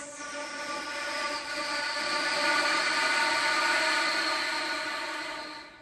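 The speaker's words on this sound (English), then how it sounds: "finger glissando and an air effect that requires a residual flute tone" A flute slides through a finger glissando mixed with a breathy residual air effect, the airy, rushing tone swelling and fading as the pitch bends, played solo and fairly quiet.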